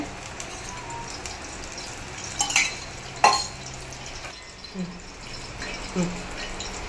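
Masala-marinated fish frying in a pan in a home kitchen, a steady faint sizzle with a few sharp utensil clinks and scrapes against the pan, some talk alongside.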